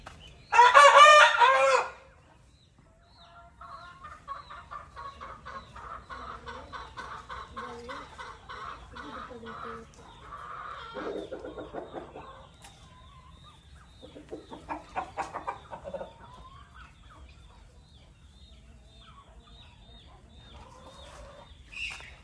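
On a farm, a rooster lets out one loud, close crow, followed by a long stretch of chickens clucking and murmuring at moderate volume.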